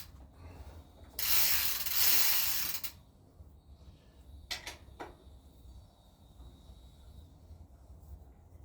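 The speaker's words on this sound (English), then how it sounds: "These hubs are really loud, obviously, but I still like the old freewheel deal." A loud bicycle freewheel hub buzzes with rapid ratcheting clicks for a couple of seconds, followed by a few short faint clicks in a quiet setting.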